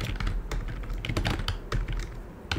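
Rapid clicks of a computer keyboard as a folder name is typed, a quick uneven burst of keystrokes heard up close and alone.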